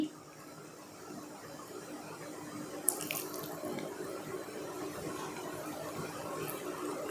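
Silver anklets are rinsed in a basin of fresh water, giving a steady low splashing and trickling wash throughout with one brief bright clink partway through; no one speaks.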